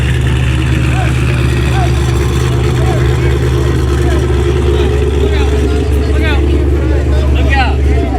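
A Nissan GTR engine running at a drag event in snowy conditions, a steady low rumble droning throughout, heard under loud talk and surrounding crowd noise.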